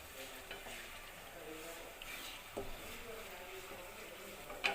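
Onions frying in a pan for chicken fry, a soft, fairly faint sizzle with light spatula stirs and a clink near the end.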